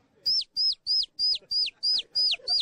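A person whistles an imitation of a young chick cheeping, eight short high peeping notes in a steady quick rhythm, close and clear against a quiet background.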